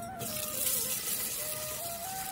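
Water pours steadily into a cooking pot nearby, a continuous gushing splash with a faint ringing tone.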